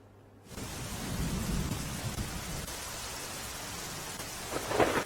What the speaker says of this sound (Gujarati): આજે સવારથી સતત વરસાદ પડી રહ્યો છે